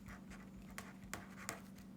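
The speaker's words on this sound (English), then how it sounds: "When I'm writing with a pen" A pen scratches across paper in quiet strokes, with a few small taps as the tip lifts and lands, heard close and faint over a low steady hum.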